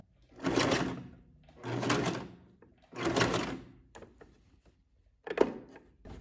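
A domestic sewing machine stitches bias binding onto a blouse's boat neckline in three steady runs of close, even whirring, with short pauses between them and a brief fourth burst near the end.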